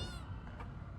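A panicked cat in a video game, rescued from a burning building with a collapsed doorway, gives one short, fairly close meow over a steady low background rumble.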